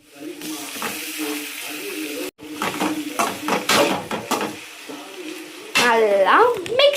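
Tomatoes sizzle in a pan while being stirred, giving scraping utensil strokes and clattering against the cookware with a steady hiss beneath, a brief pause midway, and a voice speaking near the end.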